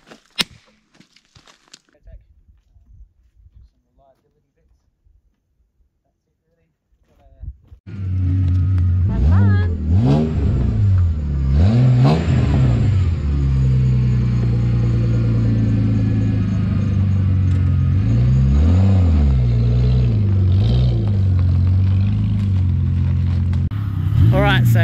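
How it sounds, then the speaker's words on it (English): A car doing a burnout at a motorsport event, starting after quiet rustling with a loud sustained engine roar that revs up and down repeatedly and stays close and dominant throughout, without talk over it. "So here's Damo, he's going to do his first burnout."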